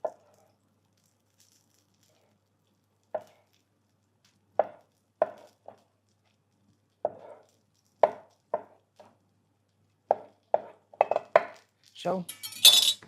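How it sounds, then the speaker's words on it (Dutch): A knife chops steadily on a cutting board, cutting skinned pikeperch into pieces, sparse at first and then quicker and more regular, with a soft scrape at the end. "deze gaan we even in mooie stukjes snijden"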